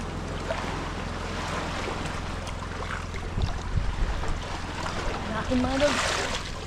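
Boats pass on open water at a grouper fishing spot, a low engine rumble and hull wash under constant wind and waves, with a closer swell of motor noise near the end.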